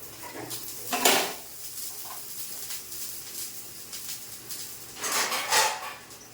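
Clattering of a lid set onto a cooking pot of ponnanganni greens on a stove at low simmer, two distinct metallic bursts of clanking near the start and end with quieter handling between, close and without talk.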